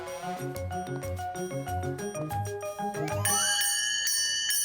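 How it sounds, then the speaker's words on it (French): A bell being rung in a children's cartoon scene at a playground, bright metallic rings over a bouncy musical backdrop, the dings growing louder and ringing out clearly near the end. "C'est moi qui vais faire sonner la cloche"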